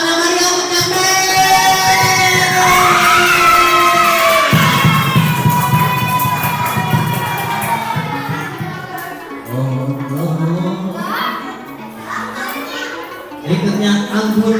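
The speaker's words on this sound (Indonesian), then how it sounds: "Dari tepuk tangan meriah untuk Jasmine" A crowd of children and adults claps and cheers loudly for a young girl reciting at a school or religious-class event, the cheering swelling and then fading under continued shouting and chatter.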